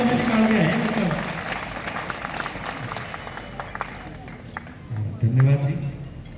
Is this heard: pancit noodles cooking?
no